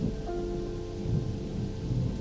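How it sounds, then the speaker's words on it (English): Steady rain falls in the mountains of the Czech Republic along a hiking trail toward a waterfall, a continuous dense hiss with low rumbling underneath and no voices. "It was raining as we expected"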